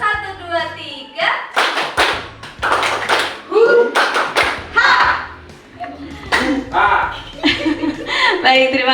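Audience members in an Indonesian school or community session clap a counted pattern of one, two, then three claps, in sharp bursts between a presenter's instructions, with scattered chuckles.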